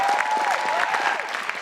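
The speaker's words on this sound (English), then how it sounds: "One more round of applause for Inez." Audience applause for a performer named Inez at a Stanford stage show, a dense sustained clapping that stays loud and even, with a faint voice or tone weaving through.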